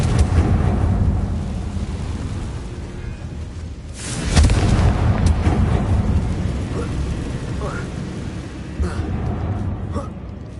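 Confringo fire spell explosions in Hogwarts Legacy, a low rumbling boom with crackling debris, a second loud blast partway through and smaller bursts afterward, over a continuous game soundscape.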